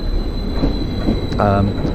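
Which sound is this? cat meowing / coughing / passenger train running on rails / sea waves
passenger train running on rails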